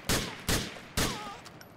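Three sharp gunshots from Grand Theft Auto IV crack out at even intervals, each with a loud attack and a trailing echo, followed by faint lingering game ambience.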